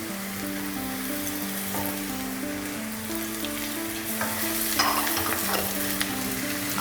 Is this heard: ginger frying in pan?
yes